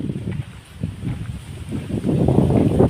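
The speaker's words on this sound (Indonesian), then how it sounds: "anginnya kenceng" Strong wind gusts across a mountainside road near Renah Kayumbun, Kerinci, making a low roaring rumble that buffets the microphone and grows heavier toward the end.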